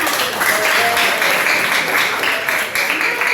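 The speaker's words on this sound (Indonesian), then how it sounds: "Tepuk tangan untuk semuanya." Applause from a classroom of students during an Indonesian-language lesson, a steady wash of many hands clapping for a few seconds, fairly loud and close with faint voices mixed in.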